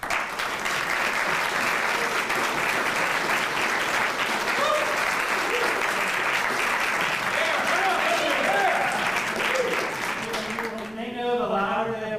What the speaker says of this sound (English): They know the louder they applaud, the shorter my comments are.